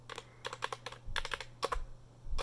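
Rapid clattery keystrokes on an Epomaker Skyloong SK61 compact mechanical keyboard, several quick bursts of close, crisp clicks separated by short pauses.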